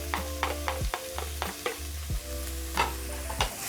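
Chopped medium onion sizzling in cooking oil in a pan, with a steady fry broken by repeated scraping stir strokes and clinks of a utensil, close and moderately loud, no talking.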